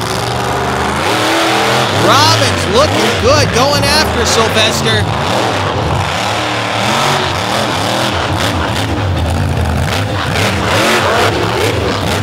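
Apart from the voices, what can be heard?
monster truck engines revving during race wheel stands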